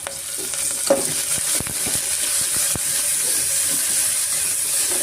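Onions with turmeric and salt frying in a pan for a vegetable bread pulao, giving a loud, steady sizzle and hiss with a few sharp scrapes and taps of a stirring spoon.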